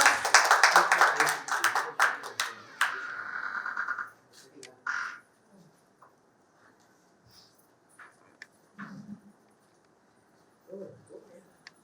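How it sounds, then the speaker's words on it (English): Clapping from an audience at a TEDx event at a school, loud and dense for about four seconds and then dying away into scattered faint noises and a brief voice. "Can you give them a big round of applause?"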